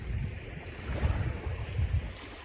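Black Sea waves wash onto the shore at Chornomorsk in winter, a soft, continuous surf with gentle swells, mixed with wind rumbling against the microphone.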